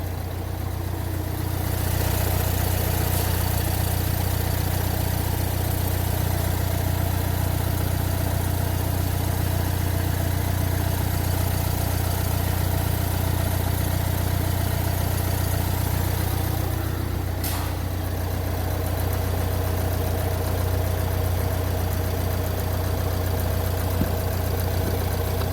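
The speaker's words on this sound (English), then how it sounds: "as you can hear that the engine is running." A Renault Trafic diesel engine, heavily modified with DPF delete and bad timing, idles steadily with a low, even rumble throughout, close by, with a brief clunk partway through.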